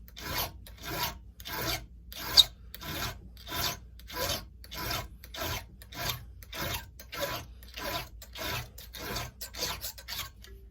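A file rasps back and forth over a chainsaw depth gauge in steady, even strokes, about fifteen passes, close and clear with no voices.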